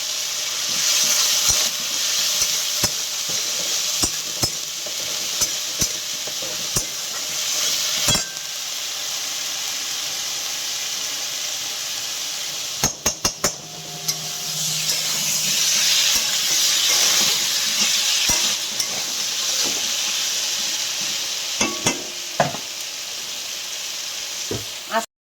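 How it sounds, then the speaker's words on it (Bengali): Ginger-garlic paste fries in a wok as the base for a fish curry. A constant loud sizzle and hiss carry on alone, broken by sharp clicks and scraping stirs, with one stronger burst of spitting midway. "মাছের ঝালে কড়াইতে ওটা ভাজা হচ্ছে"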